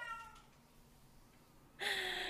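A cat meows once, a bright, loud call rising in at the end after a quieter, fainter cry at the start over low room noise.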